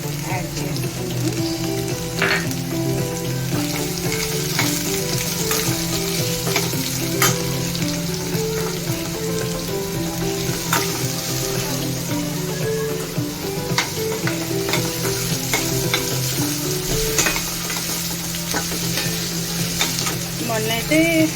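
Onions sizzle and fry in hot oil while being stirred, a steady loud crackling hiss throughout with scraping and clinking from the stirring.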